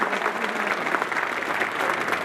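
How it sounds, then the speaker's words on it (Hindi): An audience at a political party gathering applauds in a welcome, a dense, steady wash of many hands clapping throughout. "एक बार ताली बजा करके स्वागत करें जोरदार"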